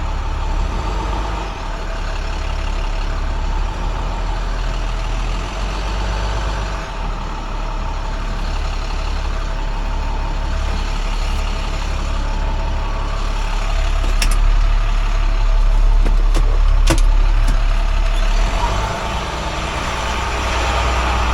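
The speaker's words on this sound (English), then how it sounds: "then just move the truck forward" A heavy truck engine rumbles steadily at close range while the truck creeps forward, holding a deep continuous drone that swells slightly midway, with a few sharp clicks and hisses toward the end.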